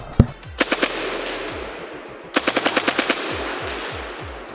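Tippmann M4 gas-blowback airsoft rifle firing full auto at a target outdoors: a single shot, then a short burst of three sharp cracks, and later a rapid string of about eight close, loud shots with mechanical clacks.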